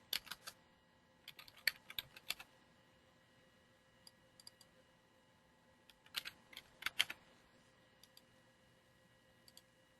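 A computer keyboard clacks in quick, irregular clusters of close key taps with quiet gaps between bursts, in a silent room with no talking.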